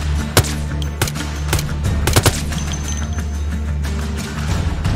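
Bursts of gunfire in the zombie survival game Project Zomboid, several sharp shots spaced irregularly over a steady low hum, loud and close, with no talking.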